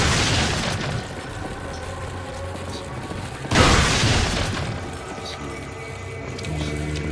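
Shotgun blasts in the video game Resident Evil 4, a loud boom near the start and another sharp blast midway, over a continuous bed of game noise.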